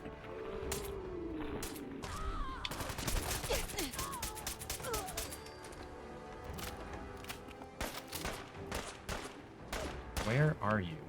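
In the video game Fallout 4, bursts of rapid gunfire crackle in fast volleys, fairly faint and clustered in dense stretches, with someone talking at intervals between and over the shots.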